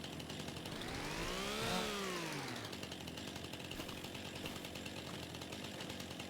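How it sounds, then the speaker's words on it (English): Chainsaw in the Farming Simulator 25 video game, its engine revving up to a high whine and dropping back within the first few seconds, then a steady background drone continuing alone. "When you got the chainsaw in hand, you can't run"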